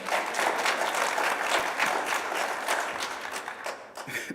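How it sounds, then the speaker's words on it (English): A church congregation applauds during a Sunday worship service. The clapping is full and steady, dips briefly near the end and then swells again, with faint chatter underneath. "yeah, you can clap, that's a good one"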